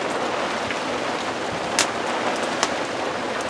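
Steady rain falls outdoors near a back step, a dense even hiss with a few sharper drips and splashes standing out, no voices.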